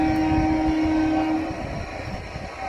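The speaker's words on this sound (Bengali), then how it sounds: "আর কথা বলবো কি, সেকেন্ডে সেকেন্ডে ট্রেন।" A passing train rumbles loud and close, with a sustained horn tone over the rolling wheel noise that fades slightly toward the end.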